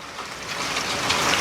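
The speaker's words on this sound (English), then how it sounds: "maybe after the rain slows down a bit" Heavy rain from Tropical Storm Debby falling steadily on a Carolina garden, a dense, even hiss of drops with no voices.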